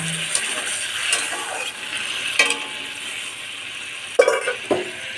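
Cauliflower and potato curry sizzles in a pan just after water is poured in, a steady close hiss broken by a few sharper bursts of bubbling, with no one talking.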